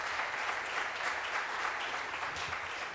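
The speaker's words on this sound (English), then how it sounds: "A nice round of applause for taking the questions as well." Audience applause fills a conference room after a panel discussion on the future of the media, steady dense clapping for a few seconds with no talk over it.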